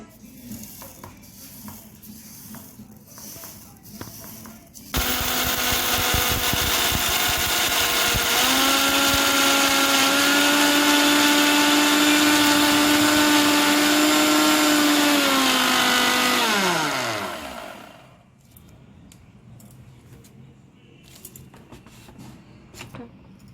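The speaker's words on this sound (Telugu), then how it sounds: "ఒక మిక్సీ జార్లో వేసుకుని పౌడర్ చేసుకుంటామండి." A mixer grinder jar powders roasted mustard and fenugreek seeds, a loud steady whirring motor that starts abruptly, runs for about twelve seconds, then winds down with falling pitch, with quieter handling noise before and after.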